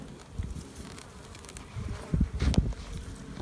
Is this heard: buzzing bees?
yes